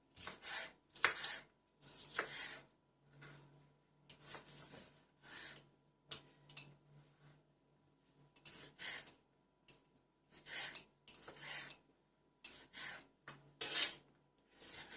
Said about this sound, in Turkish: Ve biberlerimi şöyle önce ikiye kesip şöyle hemen iri parçalar halinde keseceğim.